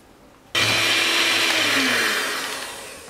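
Electric mixer whirs on abruptly and runs steadily, beating butter in a bowl for a coffee butter cake, loud and close with a slow easing of pitch toward the end.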